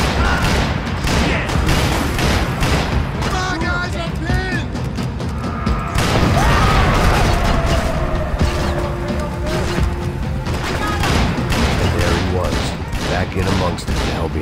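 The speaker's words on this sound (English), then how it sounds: "Shotgun." Shotgun fire in Max Payne 3 booms repeatedly amid a dense, chaotic firefight, with heavy blasts, mechanical clatter and crashes layered under a voice talking over the action.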